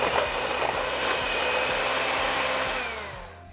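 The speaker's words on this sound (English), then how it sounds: "Using an electric hand mixer, mix together 2½ tablespoons of salted butter and 2 tablespoons of sugar in a medium-sized bowl until well blended." An electric hand mixer creams salted butter and sugar in a medium-sized bowl, giving a close, steady motor whir with a faint rhythmic beat from the beaters, then winding down at the end.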